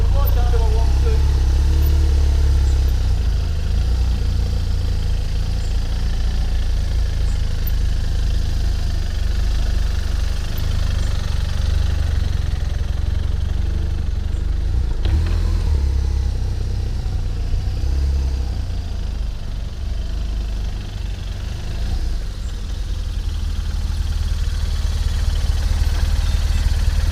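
A motorcycle engine runs steadily and loudly at low revs throughout slow-speed riding with the clutch held in the friction zone, its idle-like rumble dipping slightly now and then.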